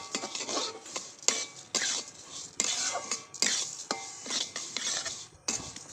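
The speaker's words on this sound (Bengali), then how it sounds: "এটা বারবার নাড়তে হবে যাতে পুড়ে না যায়" A spoon stirs a ghee-fried lentil filling in a pan again and again, giving repeated close scraping and rasping strokes in an uneven rhythm with brief clinks of metal against the pan, and no voices.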